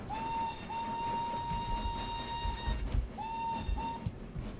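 A steam whistle from an LBSCR H2 Atlantic locomotive in a train simulator game gives a long sustained shrill blast, then two shorter toots, loud and close over the low rumble and clank of the moving train.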